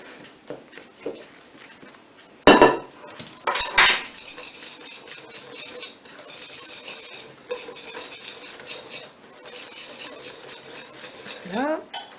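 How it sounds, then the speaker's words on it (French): Crêpe batter of flour, half a sachet of sugar and a pinch of salt is whisked in a bowl, giving a continuous wet swishing broken by a few sharp clinks against the bowl's side. "On touille, on touille, on touille."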